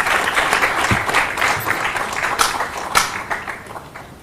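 An audience at a Ministry of Culture event in India applauds as Bharatanatyam dancer Dr. Sandhya Purecha is welcomed onstage: a dense, loud wash of many hands clapping that continues throughout.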